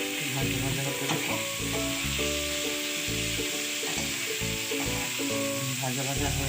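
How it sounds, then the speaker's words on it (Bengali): Spices with salt, turmeric and coriander powder fry and sizzle in a pan for methi saag, a steady close hiss running under music throughout. "ভাজা ভাজা হতে দেবো।"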